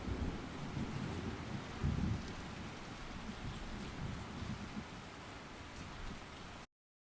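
Steady heavy rain falls with a low rumble of thunder that swells briefly near the start, then continues as a dense, even hiss before cutting off abruptly.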